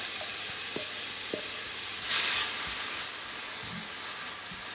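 Chopped onion frying in a pan gives a constant hiss with a few light clicks of stirring and a brief louder surge of sizzle midway, no voices.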